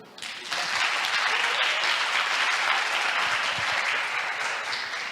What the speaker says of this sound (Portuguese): E cadê as palmas de Henrique?